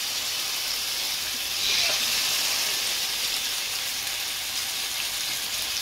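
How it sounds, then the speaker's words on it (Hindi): Salmon fillets sizzle in a little olive oil in a pan, a steady, bright hissing fry that swells briefly and then holds even, with no talking. "एक पैन लेंगे, उसमें ऑलिव ऑयल यूज़ किया है मैंने, वो थोड़ा सा डालेंगे और मछली को डाल देंगे।"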